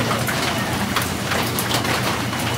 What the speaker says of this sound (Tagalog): Medyo tumila na yung ulan.